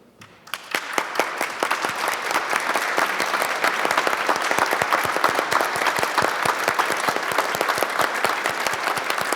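Sustained, loud applause from people in a Minnesota state Senate gallery honoring veterans during a recess, steady dense clapping that starts abruptly and continues throughout with no talk over it.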